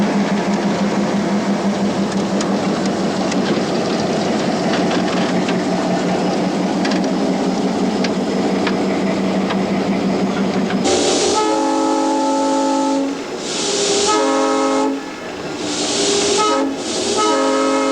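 A train rumbles steadily along the rails at close range, then its horn sounds in several loud, sustained blasts separated by short gaps.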